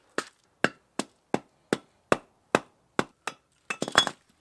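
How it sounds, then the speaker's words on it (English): A rubber mallet taps a brake rotor off a Toyota AE86 wheel hub with about ten sharp, evenly spaced knocks, close and clear, before a quick cluster of clinking hits at the end. "use a rubber mallet and just simply tap it out"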